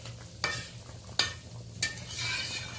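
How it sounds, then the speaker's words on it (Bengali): A utensil scrapes three times, spaced apart, through a thin fish curry with potato and ridge gourd simmering in a pot, over a low bubbling hiss. "হালকা হাতে একটু এদিক ওদিক নেড়ে নিলাম"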